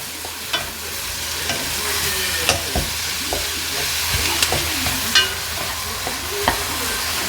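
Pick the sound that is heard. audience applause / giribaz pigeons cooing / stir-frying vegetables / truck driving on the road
stir-frying vegetables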